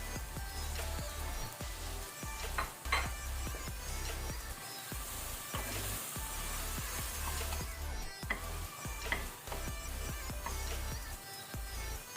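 Coriander leaves and mint frying with softened tomato in a pan for mutton masala, a steady crackling sizzle that runs without pause, close and moderately loud, with no talking.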